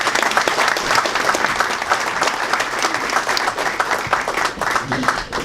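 A crowd at a community breakfast in Lexington gives Senator Creed Deeds a welcoming round of applause: dense, steady clapping that stays loud and even for the whole stretch, with no voice cutting through.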